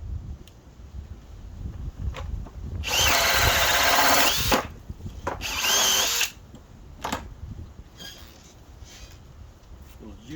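A Metabo HPT 18V DV18DC hammer drill fitted with a 2-inch speed bore bit runs at high speed in two loud, steady whining bursts of a second or more each, separated by pauses and short clicks.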